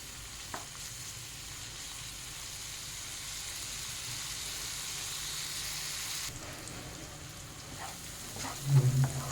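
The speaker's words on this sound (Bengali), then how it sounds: "খুব ভালো করে মশলাটাকে কষিয়ে নিতে হবে" Spice paste frying in oil for a Darbhanga fish curry gives a steady, close hiss and sizzle throughout, with a few soft stirring scrapes and a brief louder clatter near the end.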